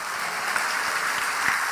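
A church congregation claps together during a Sunday worship service, a dense, steady wash of many hands filling the room at even loudness from start to finish, with no voices rising above it.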